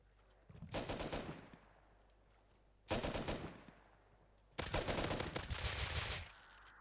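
Automatic gunfire from a boat-mounted machine gun in a first-person shooter, three sustained bursts: a short one, a brief second volley, then a longer, louder sustained burst, all close and dominant with no talking.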